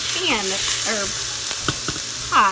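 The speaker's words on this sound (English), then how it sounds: "You guys hear that sizzle?" Chicken sizzles and crackles in a hot metal pot of a quick cooker, a steady frying hiss with a few clinks and stirring scrapes.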